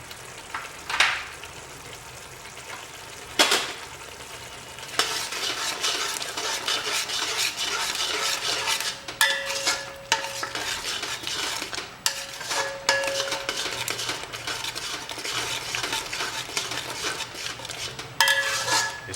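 Spices, chillies, salt and coriander frying in ghee in a pot for mutton curry, with repeated scraping and clanking of a spoon against the pan over a soft sizzle, close, with irregular louder strikes throughout.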